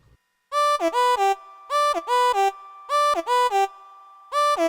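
An OP-1 synthesizer playing short bright melodic phrases with pitch glides over a groove, in clipped bursts separated by gaps, loud and close.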